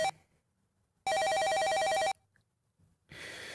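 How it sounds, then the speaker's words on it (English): A telephone rings in the Police Quest video game: one loud electronic ringing burst of about a second, steady and trilling, heard alone between quiet stretches. "Just then the telephone rings."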